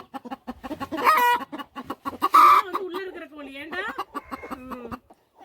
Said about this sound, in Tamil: கோழி வேற கத்துது